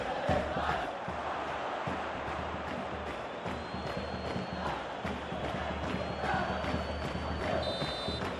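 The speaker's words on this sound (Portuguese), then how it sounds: "torcida aplaude." A virtual stadium crowd in a PES 2020 football match murmurs and cheers at a steady, moderate level, with faint bursts of excitement rising and falling throughout.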